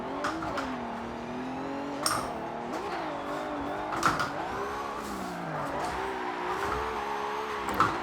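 Engine of a Nissan R32 Skyline drifting on a track in Forza Motorsport 7, a steady revving drone rising and falling with gear shifts and brief tyre squeals, loud and continuous with no talk.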